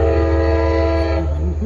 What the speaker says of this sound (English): we now are enjoying a train passing by.